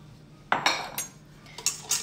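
Spoon or whisk clinking briskly against a bowl while dry yeast, sugar and warm milk are mixed, a few sharp metallic taps and scrapes at close range, no voices.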